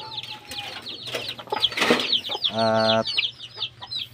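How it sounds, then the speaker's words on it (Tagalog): Chicks and chickens at a rural Philippine poultry yard, with a brief harsh fowl call standing out among soft chirps and clucks nearby, while a person talks over them. "8 piraso po yung sisiw."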